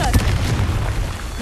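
A blasting spell in Hogwarts Legacy goes off as a heavy, sustained boom, a dense low rumble that fills the whole moment without a break.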